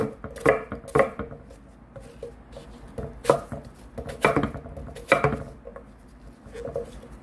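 A washed apple being chopped into small pieces, heard as about eight sharp, close knife strikes against a board, coming at an uneven rhythm with quiet gaps between them.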